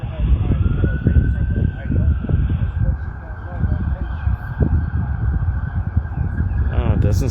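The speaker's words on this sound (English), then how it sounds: "You hear the sirens in the background?" Emergency sirens wail through the night on Chicago's west side at Francisco and Washington, a steady sustained tone heard at moderate distance under ongoing street noise and nearby talking.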